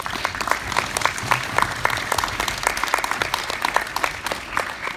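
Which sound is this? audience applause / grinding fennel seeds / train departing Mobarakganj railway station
audience applause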